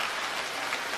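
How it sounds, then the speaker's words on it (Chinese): Audience applause at a Deyun Society crosstalk show with Guo Degang and Yu Qian, a dense, even wash of many hands clapping at once, steady and fairly loud for about a second. "我希望各位能把最热烈的掌声送给冯兆阳"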